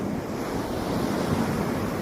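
Ocean waves wash ashore in a steady roar of surf with heavy wind buffeting the microphone, loud and continuous, with no voices.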